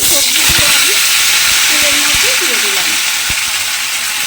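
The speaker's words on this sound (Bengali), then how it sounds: "সবজিগুলো আমি তেলের মধ্যে দিয়ে দিলাম" Potato, eggplant and drumstick pieces hit hot oil with a loud, continuous hiss and sizzle that fills the clip, along with a few sharp crackles and some faint tonal sounds in the background.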